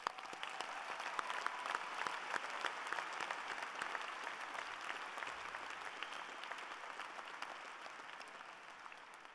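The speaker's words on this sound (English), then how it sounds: "Let's give them all of them a applause." Audience applause at a university engineering commencement ceremony, a dense, sustained wash of many hands clapping throughout, moderately distant and fading slightly toward the end.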